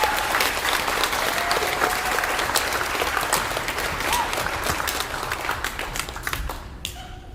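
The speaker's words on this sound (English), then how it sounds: "So please give her a big round of applause." A crowd at a school class day gives a big round of applause, with dense, sustained clapping that stays loud for several seconds before fading out at the end.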